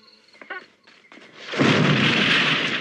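Gunfire from the 1981 horror film The Howling, with a cock-action weapon: a few sharp pops with short gaps, then a loud, sustained roar of blasts and bursts that fills the rest of the moment.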